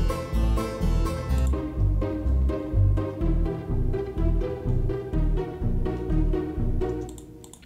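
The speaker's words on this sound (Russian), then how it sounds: "струнные звучат так" Sustained orchestral strings play a steady, rhythmic passage with pulsing low notes, full and fairly loud throughout, no voices.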